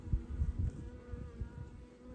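Honey bees buzzing in an open 20-frame Layens horizontal hive during an October inspection, a close, low droning hum with a few louder passes.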